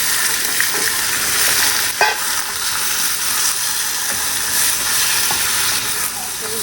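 Onions with ginger and garlic frying in a pan, a loud continuous sizzle with occasional scrapes and clinks of stirring, close up, with faint voices in the background.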